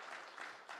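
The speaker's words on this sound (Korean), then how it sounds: "박수 쳐." A church congregation applauds during a testimony service, a dense burst of clapping that swells, dips and returns over a brief moment, fairly loud and filling the room.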